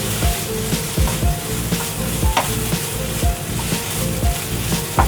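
Onion and ginger-garlic paste sautéing in a pan, a loud, close sizzle broken by repeated rhythmic clanks and scrapes of a spoon stirring against the metal, with no talking.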